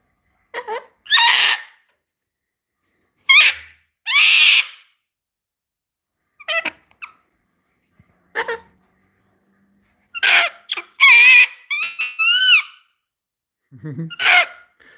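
A pet bird near its cage lets out a series of short, piercing, high screams in separate bursts with silent gaps between them, close and loud; one call rises into a whistled, wavering shriek.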